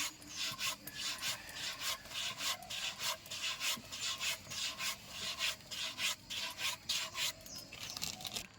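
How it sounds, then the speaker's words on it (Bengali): Chushi pitha dough made with date-palm jaggery is cut by hand in steady, faint rhythmic scraping strokes, about two per second, with no talking. "এই পিঠেটা কাটতে একটু সময় লাগছে"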